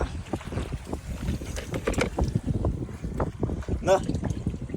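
A fishing boat runs fast across water, with choppy splashing and wind buffeting the microphone throughout, and a brief high squeal near the end.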